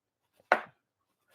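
A knife slices through a sweet onion on a cutting board in two sharp, separate cuts, the first crisp and clear, the second starting as the sound ends, with silence between.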